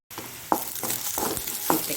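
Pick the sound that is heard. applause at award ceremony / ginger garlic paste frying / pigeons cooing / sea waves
ginger garlic paste frying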